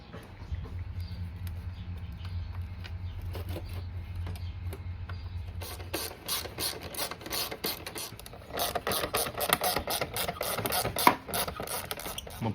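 Side plastics bolted onto a Polaris Predator 500 ATV that sat outside, with close mechanical clicks and ratcheting taps over a low hum, growing busier and more rhythmic partway through.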